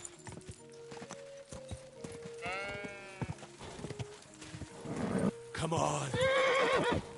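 Horse neighing with clip-clopping hooves in the medieval Bohemian game Kingdom Come: Deliverance II, a couple of loud whinnies rising over steady hoofbeats, with game music and someone talking throughout.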